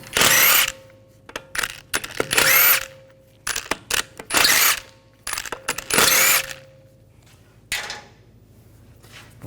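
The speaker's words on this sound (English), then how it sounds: "Now we're going to remove the lug bolts." An impact tool with a 17mm socket zips off the front wheel lug bolts of a 2011-2018 Volkswagen Jetta in loud, repeated whirring bursts, with metallic clinks of bolts dropping between them.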